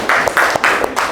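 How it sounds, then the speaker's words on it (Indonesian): Classroom applause, a few quick bursts of clapping in an uneven rhythm over just over a second, fairly close and fairly loud, with no voices over it. "tepuk tangan buat Aura."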